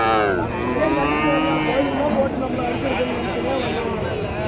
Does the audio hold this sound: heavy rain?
no